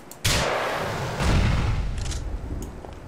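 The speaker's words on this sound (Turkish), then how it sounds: "Patlama sesi." A grenade explodes in Grand Theft Auto IV with a sudden close, loud blast, then a heavy rumbling boom that decays over a few seconds, with no talk.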